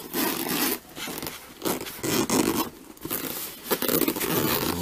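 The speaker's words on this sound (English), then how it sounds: "A little dual zipper action going on." The dual zipper on a padded nylon camera bag for a Canon EOS Rebel SL1 kit is pulled back and forth several times, each rasping stroke close and loud, with rustling between pulls.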